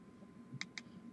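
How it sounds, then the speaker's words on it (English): Typing on an iOS 7 on-screen keyboard produces three quiet, crisp clicks spaced apart over low room hum. "I'm typing"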